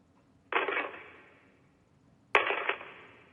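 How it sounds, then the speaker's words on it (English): Two separate bursts of dirt thrown onto a coffin lid, a game sound effect from Kentucky Route Zero, each a sudden gritty scatter that trails off, the second following a sharp click about two seconds later. "That was dirt being thrown on the lid of a coffin."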